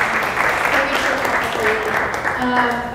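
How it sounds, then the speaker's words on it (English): An audience applauds steadily after a community presentation, a continuous even patter of clapping at moderate level. A voice speaks over it. "So please join me in giving him a round of applause."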